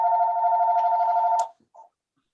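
A telephone rings with a steady electronic tone in a Senate education committee hearing room, one sustained burst followed by a brief faint blip, loud and alone with no talk.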